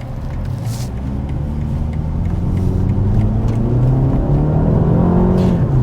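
A 2021 BMW 228i Gran Coupe accelerating, its engine note climbing steadily in pitch and loudness from inside the car, a close continuous rumble with no talking.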